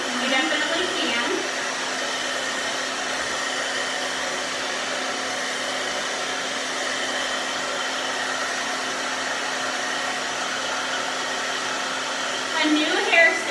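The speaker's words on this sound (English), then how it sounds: "So you can see with the blow dryer, I'm kind of laying down that volume" A blow dryer drones steadily and close for the whole stretch while hair is styled, with brief voice sounds near the start and end.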